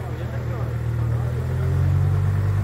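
Military truck engine building from a low idle-like rumble into a louder, rising acceleration on a road, with people talking excitedly over it.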